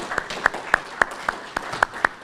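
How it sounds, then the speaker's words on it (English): Scattered, sparse hand claps from an audience at an awards dinner, about eight separate sharp claps at an uneven rhythm over a faint room murmur, sounding like a few people clapping rather than full applause. "Let's please give a round of applause for all the hard work that went into planning this conference."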